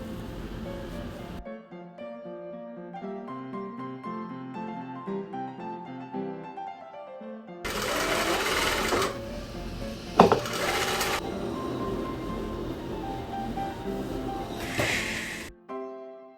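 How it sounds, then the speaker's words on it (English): A sewing machine stitches a French seam on bloomer fabric, placed wrong sides together. A steady run of needle chatter is preceded by soft tonal notes, then ends with a few sharp handling clicks. "I'm going to do French seam, so I'm going to put them wrong sides together and sew"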